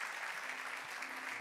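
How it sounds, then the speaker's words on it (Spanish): Church congregation applauding during a service, a faint, even wash of clapping heard from a distance and alone, without voices. "dale un aplauso fuerte a nuestro Dios."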